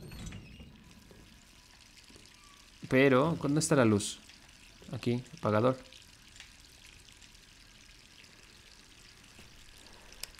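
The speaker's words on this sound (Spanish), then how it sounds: "Se escucha otra vez el agua" Running water in the video game Resident Evil 3 Remake, a constant low hiss of flowing water underneath a stretch of talking in Spanish.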